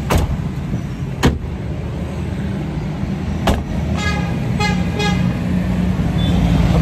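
A Suzuki Mehran car being driven, with a steady engine and road rumble throughout, a few sharp clicks, and short horn-like toots near the end. No one speaks.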